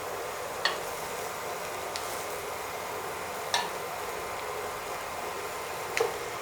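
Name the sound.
okra being stirred into frying masala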